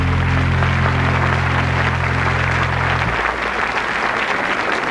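Studio audience at a French children's talent show applauds for young contestant Fabien, a dense, steady clapping wash that fills the clip over a low electrical hum which drops away near the end.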